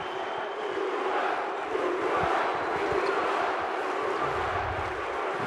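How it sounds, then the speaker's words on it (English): A basketball arena crowd at a FIBA World Cup qualifier between Uruguay and Mexico applauds a player, a broad sustained roar of clapping and cheering that swells slightly midway, with no clear talk over it. "Rodriguez receives appreciation from the crowd."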